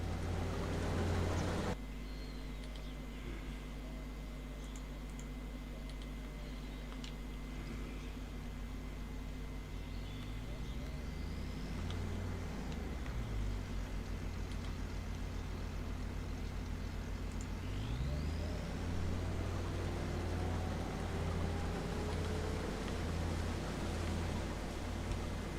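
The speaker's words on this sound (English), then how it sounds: "Let's get these combines going and we'll soon find out." Combine harvesters running in Farming Simulator 25, a steady loud engine drone with low rumble throughout and a few rising and falling mechanical whines layered over it.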